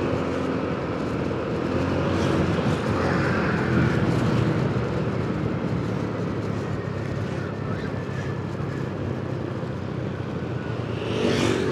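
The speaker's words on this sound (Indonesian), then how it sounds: "Suasana pasar biasanya macet nih." Congested traffic at Cicurug market near Sukabumi, with a continuous low rumble of idling and creeping vehicles and wind buffeting the microphone, steady and fairly loud for the whole stretch.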